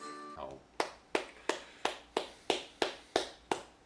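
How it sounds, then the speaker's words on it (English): A single person claps hands slowly and evenly, about nine sharp claps spaced roughly a third of a second apart, close and clear in a quiet room after a brief musical fade. "That is not sarcastic clapping."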